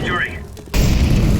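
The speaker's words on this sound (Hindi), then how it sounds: "Grenade out. Incendiary." In a CS:GO match on Mirage, a brief voice gives way to the deep, loud boom of an incendiary grenade going off, its rumbling burst sustained to the end.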